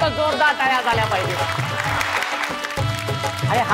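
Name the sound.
audience applause at a game show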